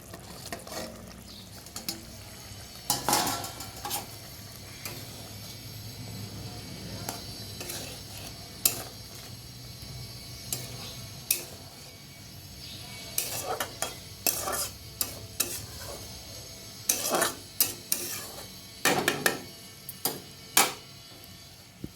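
A pot of curry broth with pointed gourds simmers under a low bubbling hiss, punctuated by irregular clinks and scrapes of a spoon against the pot, fairly close and steady throughout.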